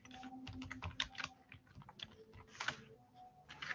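Rapid clacking keystrokes on a computer keyboard as HTML code is typed, an irregular run of close, crisp clicks over a faint steady hum.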